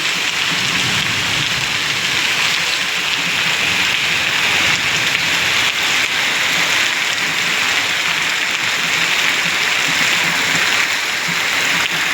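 Heavy rain pours down in a steady, dense roar that stays constant and close throughout, with no voices.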